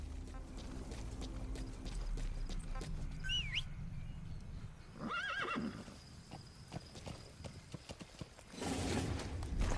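A horse from the video game Metal Gear Solid V gallops in when called, with hoofbeats, whinnying and a snort over a constant wind and ambient game bed.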